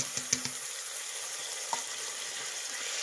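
Tomatoes drop into frying ginger-garlic paste, with a few soft plops and clicks at the start, then a steady, close hiss of sizzling in the pan.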